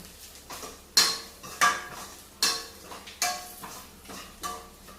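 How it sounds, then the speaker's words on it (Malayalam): Grated coconut and curry leaves roast in a pan while a spoon scrapes and clanks against the metal. About six sharp strikes come at uneven intervals over a faint sizzle, with no talking. "കറിവേപ്പില തേങ്ങ വറക്കുന്നു"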